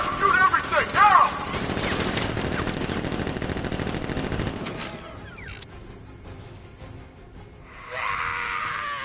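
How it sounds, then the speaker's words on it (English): Guards open fire in Batman: Arkham Knight, a dense burst of automatic gunfire in a fusillade with clattering mechanisms and shouting, loud for several seconds, then thinning out into quieter game ambience. "Guard! Open fire! Shoot everything! Now!"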